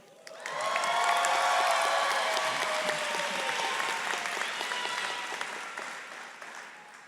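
Families applaud and cheer for a graduate at a spring veterinary medicine commencement ceremony, a large crowd's clapping that swells quickly, stays loud, then gradually tapers, with scattered whoops mixed in.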